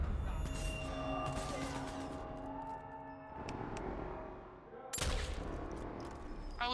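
Gunfire rings out in the video game Sniper Elite 4, with a burst of shots, echoing tails and a sharp loud blast near the end, all over game ambience.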